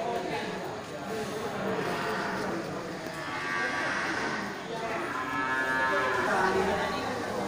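Fattening cattle, including Bali cattle, moo at the Grogol animal market amid a busy crowd, low calls rising over continuous nearby chatter and speech.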